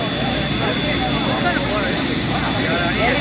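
Army helicopter on the ground just after landing at a school, its rotors still spinning at full speed in a loud, continuous whooshing turbine roar with no letup.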